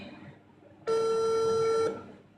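A mobile phone call tone sounds as one steady electronic beep lasting about a second, clear and loud over faint room noise.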